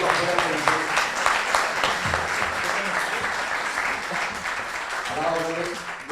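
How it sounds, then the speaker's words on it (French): Steady applause from a crowd fills the room, running under a voice that speaks over it throughout. "Oui, on peut l'applaudir."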